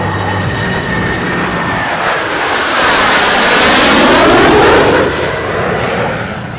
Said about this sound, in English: pilots will simultaneously roll their aircraft 360 degrees as they perform the diamond aileron